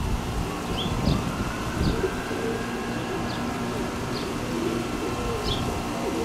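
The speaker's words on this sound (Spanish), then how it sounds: "Prueba de cajón con la paloma de la casa." A domestic pigeon coos softly several times at a steady pace, faint and somewhat distant beneath steady wind and outdoor background noise.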